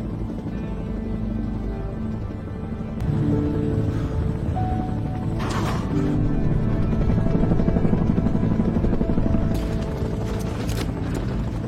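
A firefighting crew's helicopter flies steadily overhead, its rotor chop a continuous throbbing drone that swells slightly partway through, with a few clanking mechanical knocks over it.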